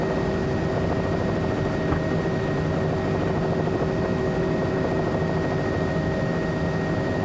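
A Cowansim Bell 206L3 helicopter flies steadily in Microsoft Flight Simulator 2024 on a cloudy day. The rotor and turbine make a constant, loud, even drone with a fixed whine on top, and no one speaks.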